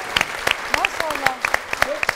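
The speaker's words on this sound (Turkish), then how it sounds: "Ay bir alkışla" Sparse, sharp individual claps from a small studio audience on a Turkish health talk show, uneven rhythm, with voices talking over the clapping.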